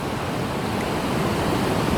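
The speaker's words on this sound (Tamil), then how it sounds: "இது கோல்ட் கோஸ்ட் கடற்கரை." Steady surf rolls in at Gold Coast beach in Queensland, Australia: a dense, continuous wash of breaking waves, close and fairly loud, with no voices.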